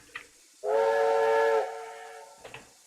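A steam whistle from an American steam locomotive in the RO-Scale Sandbox railroad game sounds one loud, steady chord-like blast of about a second, then tails off more quietly, with short faint knocks before and after.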